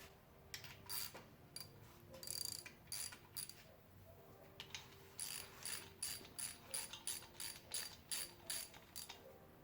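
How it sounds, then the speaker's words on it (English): A ratchet wrench snugs down engine block bolts on a Nissan KA24ET build, giving bursts of rapid clicking pawl strokes in repeated short runs, close up and fairly quiet, with no talking. "just tighten them down a little bit more with a normal ratchet before moving over to the torque wrench"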